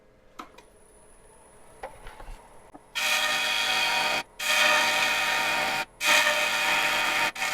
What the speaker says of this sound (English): I can pluck this material off with the big gouge